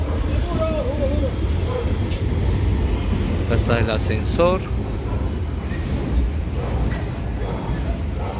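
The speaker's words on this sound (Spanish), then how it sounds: "ahí va otro de los trenes." A Lima Metro Line 1 train rolls past outside Pumacahua station, a steady broadband rumble that swells briefly in the middle, with someone talking over it throughout.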